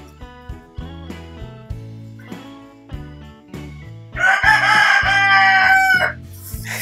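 A pet rooster kept at home gives a few short clucks, then lets out one loud, close, drawn-out crow, with no one speaking.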